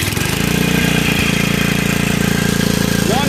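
A vintage Ariens Emperor riding mower engine running loud and close, steady and chugging throughout, with a brief rising whine near the end.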